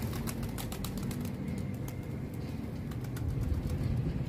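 Pigeons during twice-daily training of male and female birds: low, soft cooing with scattered clicking flutters over a steady, dense background, continuous throughout.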